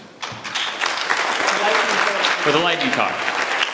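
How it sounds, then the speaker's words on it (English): Conference audience applauding at a SciPy 2019 lightning talks session, a dense, steady burst of clapping that builds quickly and carries on under a speaker's voice talking over it. "Thunderous applause for the audience"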